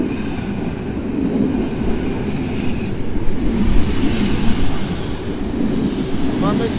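An EN57 AKM electric multiple unit train at Warszawa Zachodnia station, a loud continuous rumble and roar of the train close by, with wheel noise rising and falling, no talk over it.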